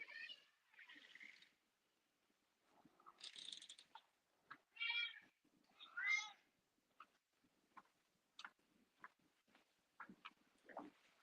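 Pet cats meow to be let in, a series of faint, scattered cries with quiet gaps between them, mixed with soft scratching and ticking noises from nearby.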